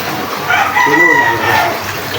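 A hen that no longer lays eggs, about to be cooked into tinola, gives a few close, fairly loud clucks and squawks over a noisy background.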